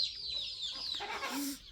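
Hens and young chicks on a small farm give soft, short clucks and thin peeps close by. The sounds are fairly quiet and come with no talking.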